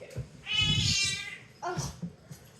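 An indoor house cat meows loudly and close by: one long, drawn-out call, then a shorter second meow after a pause, with a small sound between them.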